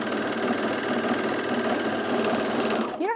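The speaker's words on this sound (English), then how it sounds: "I'm doing all these seams on the lower half, just overlocking" An overlocker stitching seams on woven fabric, a fast, steady mechanical whir with a rapid rhythmic clatter, close and loud, winding down at the end with a brief falling whine; no one speaks.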